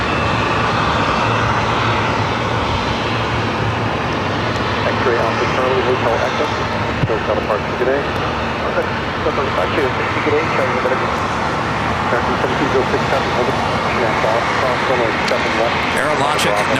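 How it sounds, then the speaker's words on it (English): A British Airways airliner taxis to the gates at LAX in challenging weather, its engines a continuous moderate hum with a low droning tone underneath, with some talk over it. "Speedbird now making that turn, heading into the gates of Tom Bradley."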